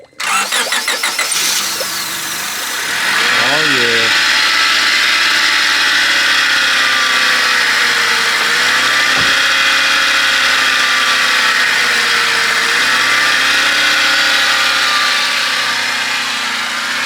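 A Honda Civic D16 engine cranks and starts after a short burst of clattering, then settles into a steady, loud, fast cold idle that hums on with slight dips.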